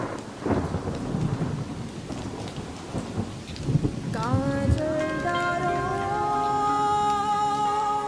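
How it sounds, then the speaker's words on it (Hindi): Steady rain pours down through a thunderstorm, with deep rumbling thunder rolling underneath; partway through, sustained tonal music swells up and continues over the downpour. "मुझे तो बारिश बहुत अच्छी लगती है।"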